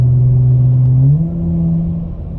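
A Dodge Challenger GT with a Cherry Bomb Extreme muffler downshifts, and its loud, low exhaust drone holds steady before its pitch steps up about a second in, then settles into a slightly softer, continuing hum with no voices.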